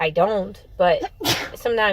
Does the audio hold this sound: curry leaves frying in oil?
no